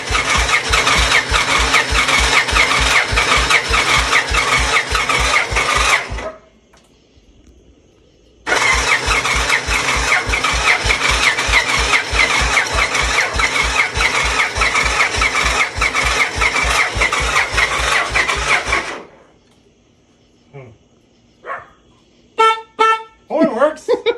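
A 1999 Victory V92C motorcycle left unrun for 13 years cranks over in two long, rapid rhythmic bursts of the starter with a pause between, then falls quiet before a few brief clicks and knocks.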